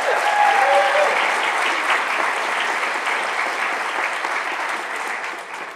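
Warm, full applause from a live audience at a morning creative talk event, loud at the outset and gradually tapering off, with a few faint voices and whoops mixed into the clapping.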